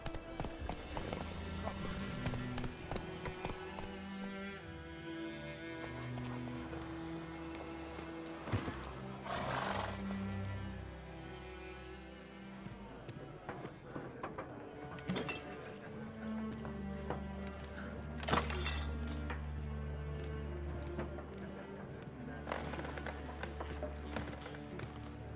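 Hooves of a horse clip-clop along a road in The Witcher III video game, a steady walking rhythm at moderate level beneath character dialogue and background music.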